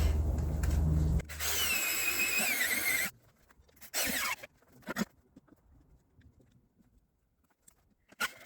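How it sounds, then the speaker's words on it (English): A power driver with a nut driver bit screws an anchor into the ground beside an old leaning retaining wall, giving a loud, strained whining squeal that runs for several seconds, then a shorter burst and scattered faint clunks. "screw it in with this nut driver"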